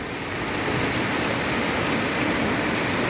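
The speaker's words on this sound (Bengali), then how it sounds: "প্রচুর বৃষ্টি হইতেছে।" Heavy rain in Joypara, Dohar, Dhaka, pours down as a dense, steady, loud wash of noise with no pauses and no voices.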